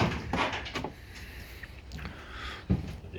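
A semi-secret door is unlocked and opened, with several close wooden clunks, a latch rattle and a firmer knock near the end, no talking.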